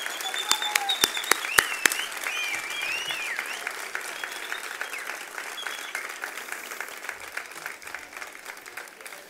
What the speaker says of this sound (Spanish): Para él pido un fuerte aplauso.